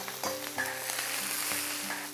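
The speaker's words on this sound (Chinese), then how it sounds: "黑椒、花椒下锅上香" Ginger, scallion, garlic, black pepper and Sichuan pepper hit hot lard for a rabbit dish, giving a loud, steady sizzle with a few stirring scrapes, close and continuous for about two seconds.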